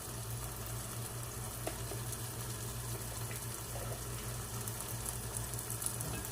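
Ground spice powders, coriander and turmeric, sizzle in a hot pan for an egg curry, a steady soft crackling hiss with faint stirring scrapes, no voices.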